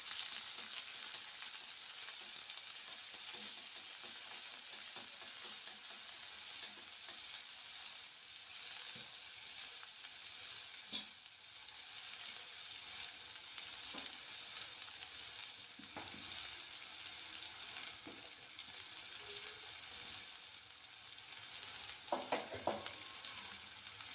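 Sliced onion frying in oil with crackled mustard seeds and urad dal, a constant bright sizzle held steady throughout, with occasional faint stirring taps and no talking.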